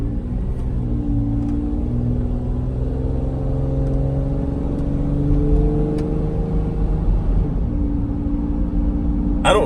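A steady low drone fills the cab of a 2003 Toyota Tundra with about 200k miles while it drives, a continuous engine and road hum with slowly shifting tones, no talking.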